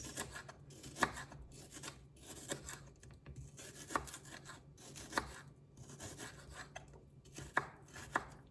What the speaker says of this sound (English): you want to cut these as small as possible, because these are gonna be cooked into the rice